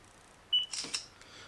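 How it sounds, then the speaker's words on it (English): A short electronic beep followed by a quick mechanical whir and click of a Samsung i8510 Innov8 phone camera's autofocus and shutter, close and quiet. "you can hear the autofocus working, and it has actually taken a still shot there"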